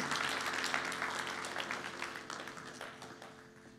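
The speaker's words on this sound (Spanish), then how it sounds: "¿Podemos darle un fuerte aplauso al Señor Jesucristo, hermano?" Church congregation applauding in a dense, even patter that gradually fades, with a low steady hum underneath.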